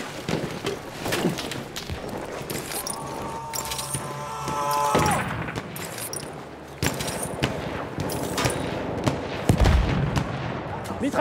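Enemy machine gun fire in the Battlefield 1 video game, with rapid bursts and scattered gunshots crackling through a busy battlefield din. A voice speaks briefly over the shooting.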